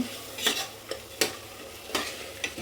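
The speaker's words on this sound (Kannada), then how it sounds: "ಇದೆಲ್ಲ ಚೆನ್ನಾಗಿ ಎಣ್ಣೆಲಿ ಫ್ರೈ ಆದಮೇಲೆ" Spices fry in oil for mentya bath, a fenugreek rice dish, with a soft sizzle beneath repeated sharp, close stirring scrapes about every half second.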